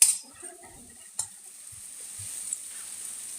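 Garlic frying in a pan while being stirred: an opening clatter of a utensil, then soft scrapes and taps over a steady, gentle sizzle that grows slightly toward the end, with no talking.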